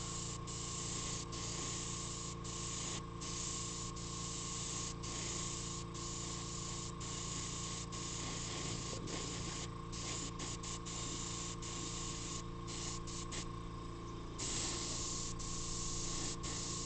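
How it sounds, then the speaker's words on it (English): A steady airy hiss of paint spraying onto a mat runs throughout, with brief pauses and bursts over a constant low mechanical hum. "Sometimes I'll just spray it right out onto my mat."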